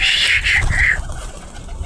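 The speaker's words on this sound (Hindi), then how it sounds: "ये बैठे हुए हैं हमारे 5 कबूतर" A pigeon gives a brief cooing call, close by, with a faint background hum and no speech.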